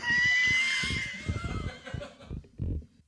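A performer's voice imitates Frankenstein's monster, opening with a strained high cry that drops into a series of low, rhythmic grunting groans, close and loud.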